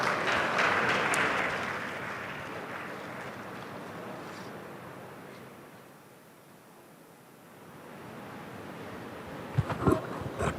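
Audience applause at a 2016 hackathon awards session, a dense even clapping wash that is loudest at the start, thins toward the middle, then swells again, with a few sharper claps near the end.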